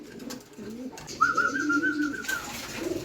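Pigeons coo nearby in a soft, low, rolling call, with rustling and faint background activity around them.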